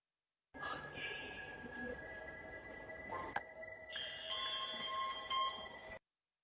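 Exam end signal for an OSCE practical exam, a steady electronic alarm tone that shifts to a higher, brighter pitch partway through, lasting several seconds with no talking over it.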